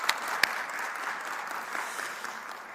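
Audience applause at a New Jersey governor's announcement of a state Supreme Court nominee, a steady, moderately distant sheet of clapping from a crowd, with a couple of sharper claps near the start.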